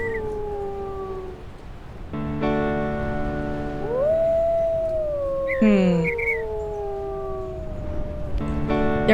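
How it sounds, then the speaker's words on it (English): Wolves howl in a wolf-pack video game, several long rising and falling howls layered over each other, loud and close, with overlapping voices joining in waves across the stretch. "Let's just howl"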